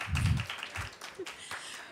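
Audience clapping at an Indigenous Peoples Pavilion panel during COP28, a short burst of applause that swells and then fades within a couple of seconds, with no voices over it.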